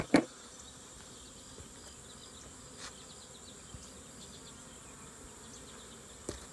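Nurse bees on a brood frame in an open hive give a faint, steady buzz throughout, with a few soft knocks and clicks standing out now and then.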